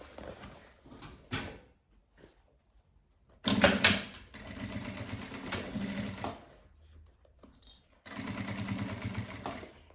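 Sewing machine stitching fabric for an embroidered pouch, running in several bursts of rapid mechanical chatter separated by pauses and soft handling noises, close and fairly loud, with no voices.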